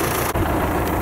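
A farm tractor idles before mowing hay, its engine a steady, close, mid-low rumble with brief dip partway through, no talking.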